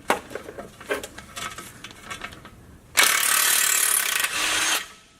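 A ratchet fitted with a 13 mm socket loosens the ball joint bolts on a car's lower control arm: several short clicking bursts, then a loud, fast, continuous ratcheting run of about two seconds, close up.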